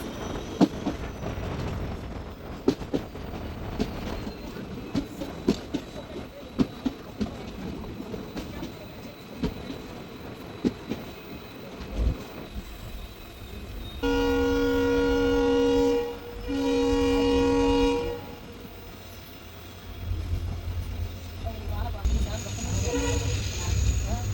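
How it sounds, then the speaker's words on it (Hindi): A train arriving at Tiruppachetti railway station in South India rumbles and clatters along the rails, then sounds two long, loud horn blasts, with wheel noise and some talking around it. "अब हमारी ट्रेन का अराइवल हो रहा है तिरुप्पाचेत्ती रेलवे स्टेशन पर।"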